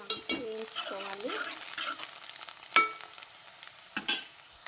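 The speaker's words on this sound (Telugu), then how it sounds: "పసుపు కూడా పచ్చివాసన అంతా పోయేదాకా ఇలా వేయించుకోవాలి." Turmeric frying in a pan while being stirred for mutton curry, with soft sizzling and intermittent scraping of a utensil against the pan, plus a few sharper metallic clinks, close and fairly quiet.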